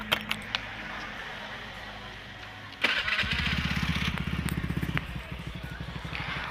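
A modified Honda Beat scooter fires up after a few clicks and quiet hum, settling into a rapid, even putter of exhaust pulses at idle, close and fairly loud.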